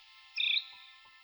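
A great grey shrike gives a short, sharp, high chirping call, one brief bright burst followed by a couple of faint soft notes, set against a quiet steady background hum.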